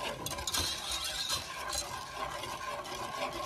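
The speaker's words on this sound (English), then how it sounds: "you're definitely going to want to keep stirring this mixture because we do not want it to burn" A brown sugar mixture is stirred steadily in a pot over just-below-medium heat, giving soft, continuous scraping and faint bubbling at close range with no talking.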